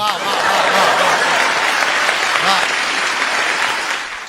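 Loud, dense applause from a large audience at a poetry recital fills the whole stretch, a continuous wash of clapping with faint crowd murmur that eases slightly at the end.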